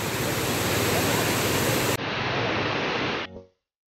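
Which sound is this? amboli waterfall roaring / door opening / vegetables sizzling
amboli waterfall roaring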